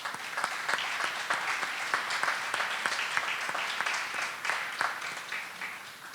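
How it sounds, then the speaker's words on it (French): Audience applause at a municipal debate in Trois-Pistoles, honoring a longtime mayor: steady, dense clapping from a room full of people, sustained throughout with no talk over it. "une bonne main d'applaudissements pour M."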